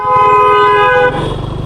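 Sustained, loud horn blast from a vehicle arriving suddenly on the road, a steady tone lasting about a second before cutting to rumbling traffic noise, close by.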